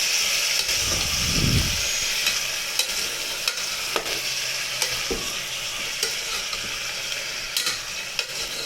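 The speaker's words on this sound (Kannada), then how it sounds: "ಇವಾಗ ಹಸಿ ಸ್ಮೆಲ್ ಹೋಗೋ ತನಕ ಫ್ರೈ ಮಾಡ್ಕೊಳ್ತೀನಿ" Brinjal and potato frying in a pan, a bright steady sizzle and hiss with a low rumble early on and sharp clicks of stirring scattered throughout.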